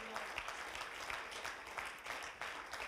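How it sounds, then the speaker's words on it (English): A congregation at a Wednesday night worship service claps in praise, a busy, moderately distant patter of many hands with faint accents, sustained through the short stretch. "Let's give the Lord a hand clap of praise."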